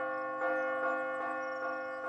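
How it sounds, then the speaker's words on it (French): Bell ringing in a PAW Patrol cartoon scene, a rich sustained tone struck repeatedly about every 0.4 seconds, each strike swelling over the lingering ring. "La cloche peut sonner au moins maintenant."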